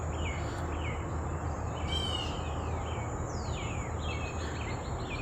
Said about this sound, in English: Hope you guys can hear some of the birds in the background.